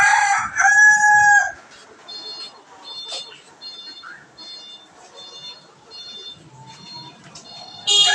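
Chickens and a rooster at a poultry shop in a Saturia market that sells native chickens, ducks, pigeons and broilers, with a loud crow at the start, then repeated nearby clucking and squawking, and another crow rising at the end.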